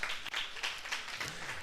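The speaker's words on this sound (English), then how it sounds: "So please, let's have a round of applause for these 2 gentlemen." Short burst of audience applause for two men at a live event, a dense continuous patter of many hands clapping, fairly loud and brief.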